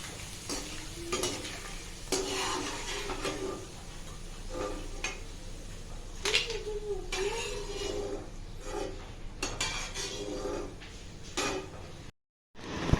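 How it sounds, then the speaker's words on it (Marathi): Potato wafers frying in hot oil give a steady, continuous sizzle throughout, with occasional stirring clatter and a brief drop-out near the end. "आपण आता तळून घेऊया बघा किती छान फुलत आहेत"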